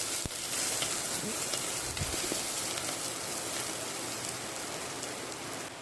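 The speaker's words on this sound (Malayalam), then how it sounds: "ഇനി നമുക്കിതിലേക്ക് ഒരു 1/2 സവാള ചെറുതായി അരിഞ്ഞത് ചേർത്ത് കൊടുക്കാം. ഒന്ന് ഇളക്കി അതും നന്നായിട്ടൊന്ന് വാട്ടിയെടുക്കാം." Chopped onion sautéing in a pan for a Kerala-style fish curry, giving a steady broadband sizzle throughout with a few brief clinks from stirring, no talking.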